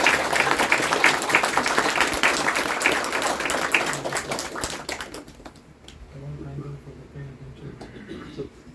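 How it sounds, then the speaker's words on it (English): A room of listeners claps after a question-and-answer session, loud steady applause that fades out around the middle, leaving quieter room sound with faint murmuring. "let's thank Sundar Prabhu by giving a round of applause"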